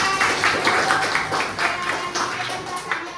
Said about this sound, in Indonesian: kita beri tepuk tangan untuk Hana.